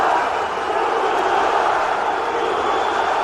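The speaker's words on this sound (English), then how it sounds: "crowd getting behind him early in this one" A large MMA arena crowd roars steadily for fighter Tuhugov, a dense, continuous wall of cheering and shouting that holds at full loudness throughout with no pauses.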